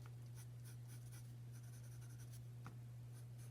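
A pencil draws a block letter on paper in quiet, faint, repeated scratchy strokes over a steady low electrical hum.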